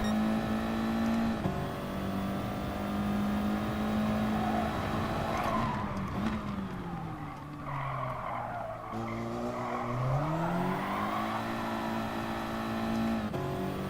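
A race car in a racing video game spins its wheels through a corner, with sustained loud tire squeal and skidding over a droning, shifting engine note that dips and rises again, continuous and close.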